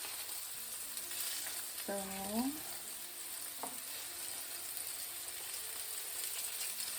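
Salmon steaks fry in a pan with a faint, steady sizzle and hiss, heard from a little distance, with a brief spoken word partway through.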